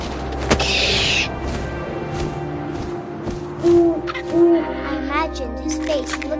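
Owl hoots ring out in the video game What Remains of Edith Finch, a couple of distinct calls standing above a steady layer of wind and ambient game sound.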